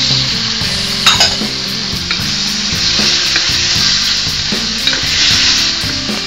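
Loud, constant sizzling from a hot pan as shrimp and carrots are stir-fried, stirred and tossed, with occasional scrapes of a utensil against the metal.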